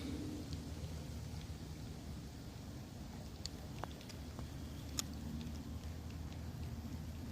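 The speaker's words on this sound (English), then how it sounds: "This is oddly really relaxing being out here in the rain. Can you guys hear the rain?" Rain falling outdoors at a lake in Lake Elmo, Minnesota, a steady soft wash of patter with a few sharper drops and ticks close by, no one talking.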